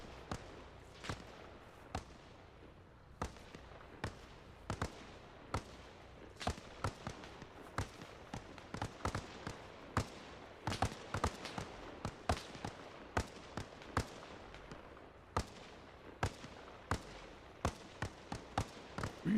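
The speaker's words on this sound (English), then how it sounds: "Who are you shooting at up there?" Distant gunfire in ArmA Reforger on Kolguyev near a sawmill, dozens of sharp cracks at an irregular pace, some single shots and some quick clusters, far off and faint with no talk.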